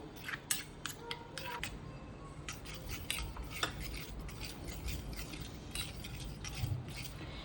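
Omelette and onion mixture being stirred for a bread cheese sandwich, a run of quiet close clicks and scrapes of a utensil against a dish, irregular and light against a low background hum.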